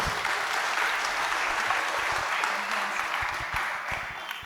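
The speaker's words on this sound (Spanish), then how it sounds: "La vamos a recibir con un fuerte aplauso y con un gran agradecimiento." An audience in a chapel bursts into sustained applause to welcome a speaker, a dense steady clatter of many hands that holds for several seconds and fades slightly at the end, with no talk over it.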